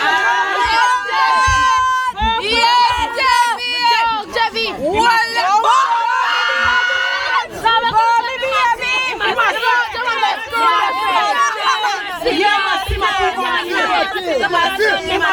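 A crowd of children and adults cheering and shouting at a sixth birthday party in Jamaica, dense excited voices and screams overlapping continuously and close by throughout.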